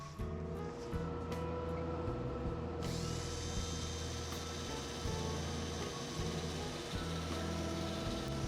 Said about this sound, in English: I'm using a 2-inch disc on my drill.